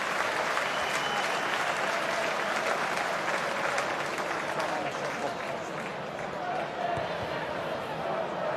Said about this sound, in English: His standing ovation. And I'm going to give him a clap as well.